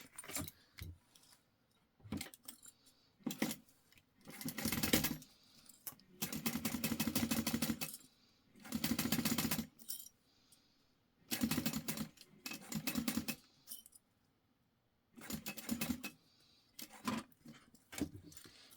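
A sewing machine runs in short bursts of rapid stitching through jelly vinyl, starting and stopping repeatedly, with brief mechanical clicks between runs.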